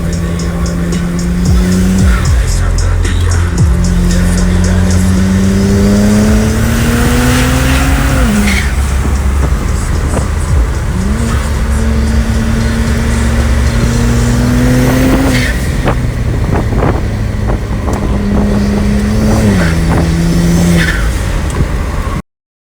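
A tuned BMW 135i (1 Series) engine revs hard through repeated gear pulls, rising pitch then dropping at each shift, loud and close with occasional tire squeal.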